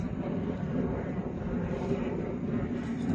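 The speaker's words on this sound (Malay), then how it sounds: "Adik kapal terbang ni kat atas." A fixed-wing airplane passes overhead at Bagan Pinang beach, a steady broad engine roar that holds at an even level throughout, fairly distant, with no talk.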